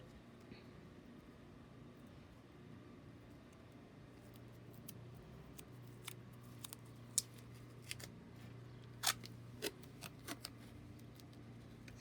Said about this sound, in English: So let's just give that a trim